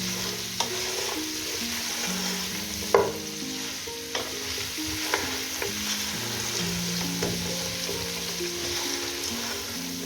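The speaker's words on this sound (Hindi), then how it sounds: "मटन यहाँ पर बहुत ही अच्छे तरीके से भुन चुका है।" Mutton sizzles steadily in a pot as it is fried and stirred for yakhni pulao, with a few sharper scrapes and clinks of the spoon against the pan over a continuous hiss, close and without talk.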